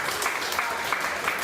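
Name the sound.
audience applause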